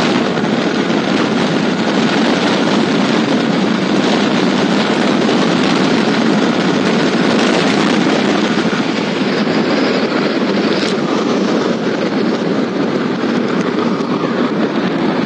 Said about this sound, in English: Now let's see how the bike performs over here.